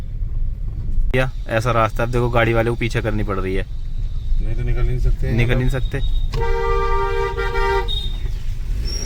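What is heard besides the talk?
car reversing on a narrow village road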